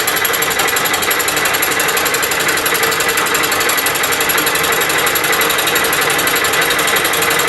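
A fly cutter spinning on a Bridgeport milling machine gives off a loud, continuous rapid chattering buzz with metallic ringing, steady and unbroken from start to finish.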